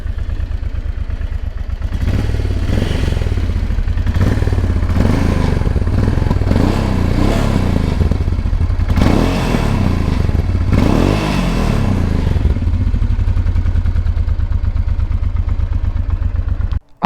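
A Honda Transalp V-twin motorcycle idles steadily, a constant low rumbling engine beat heard close up and loud for the whole stretch, with no talking, before cutting off sharply at the end.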